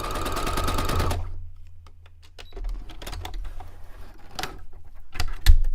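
A sewing machine stitches fast through fabric in one brief, rapid burst, then stops, leaving quiet handling clatter and a few sharp clicks.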